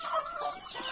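Backyard chickens cluck briefly in a short, close burst of clucking.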